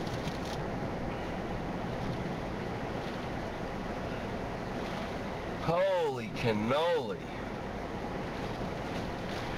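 Hurricane surf and gusting wind batter an ocean pier in a constant roaring wash, with a man's brief exclamation rising over the noise midway.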